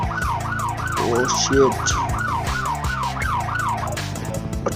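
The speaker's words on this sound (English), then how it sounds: "the police cars are behind him." Wailing police car sirens in the video game Dude Theft Wars, a loud, rapidly cycling tone repeating steadily under a brief spoken exclamation, with game engine and crash noises behind.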